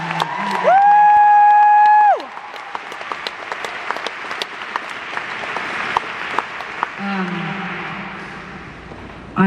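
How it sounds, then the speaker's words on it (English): Concert crowd at a show applauds and cheers steadily for the lights and sound crew, opening with a loud sustained whistle-like tone before settling into dense clapping and scattered whoops. "Lauren and Amanda, a huge round of applause"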